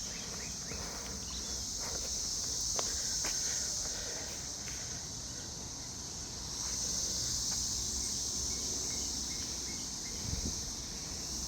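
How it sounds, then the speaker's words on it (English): Cicadas buzz in a continuous high drone that swells and fades in waves along a lakeside trail at Freeman Lake in Elizabethtown, Kentucky, with faint footsteps and rustling underneath. "It's allergy season and cicada season, you probably hear them."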